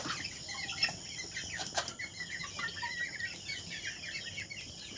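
Chickens on a small farm cluck softly and intermittently, with a brief flutter of wings, faint and somewhat distant against a quiet outdoor background.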